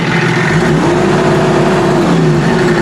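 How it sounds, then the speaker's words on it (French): A car engine revs with a steady, loud droning hum whose pitch climbs slightly and then levels off, heard alone with no talking, recorded for sound design. "J'ai fait le moteur de la voiture."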